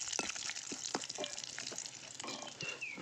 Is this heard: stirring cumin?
yes